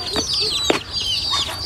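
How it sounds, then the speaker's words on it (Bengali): Chickens clucking nearby, several short sharp clucks and squawks over a low background murmur, with one louder burst in the middle. "মুরগি"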